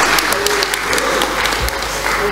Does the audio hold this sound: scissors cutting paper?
no